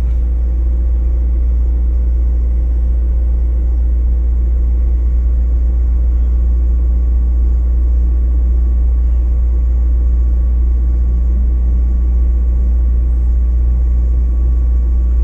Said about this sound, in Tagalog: Nire-revolution niya 2000 RPM.